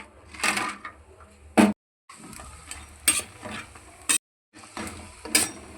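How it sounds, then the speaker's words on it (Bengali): Bori, sun-dried lentil dumplings, fry in oil with soft sizzling, broken by several sharp bursts of stirring and pan clatter, with two short gaps of silence between them. "বড়িগুলো ভাজা হয়ে গেছে, এবার আমরা তুলে নেব"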